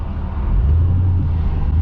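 A 2005 Mercedes CLS55 AMG engine pulls hard with a loud, deep, steady roar that stays heavy and continuous from start to finish, with no voices over it.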